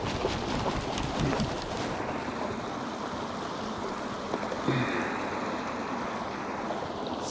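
Cold-water beneficial bacteria liquid poured into a 3,500-gallon garden pond, a steady broad wash of splashing water that runs continuously, fairly close, with a few brief louder splashes and no voices.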